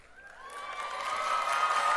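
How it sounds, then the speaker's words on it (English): At the USC Mann School of Pharmacy 2023 commencement ceremony, a crowd applauds graduates' supporters. The clapping builds from quiet to a full, steady roar, with a few cheers and a rising whistle-like tone. "Join in applauding all those who support our graduates"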